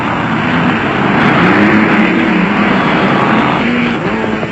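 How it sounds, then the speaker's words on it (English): Off-road race trucks, including the Castrol Toyota Hilux, roar off the start line together at the 1997 Trans-Tongoland race in South Africa, a loud, sustained wall of engine noise with no one talking. "The spectacular acceleration of Cassie Coetzee and Richard Leek's Castrol Toyota Hilux sees them race towards the front in a scene reminiscent of a Grand Prix start"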